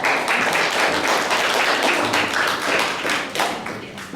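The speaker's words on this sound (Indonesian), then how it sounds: "tepuk tangan untuk kelompok" A classroom group of students and teacher claps for a student group, a steady close-up burst of hand claps with a loose rhythm that rises and then thins out near the end.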